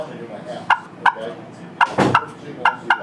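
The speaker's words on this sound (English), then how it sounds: "Where that hen, she's gonna cluck like this." Hen turkey clucks made on a turkey call at a New York turkey hunting lodge: about seven short, sharp, close clucks in uneven pairs across a few seconds, with no talking.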